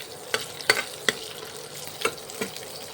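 Hot oil sizzles softly over a high flame while neem jhol ingredients fry, broken by several sharp, close scrapes and clacks of a spatula stirring the pan.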